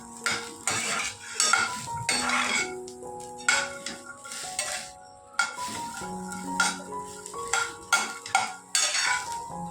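Shelled pavta beans dry-roast in a metal pan as a spatula scrapes and clinks against it in irregular strokes, with no talk.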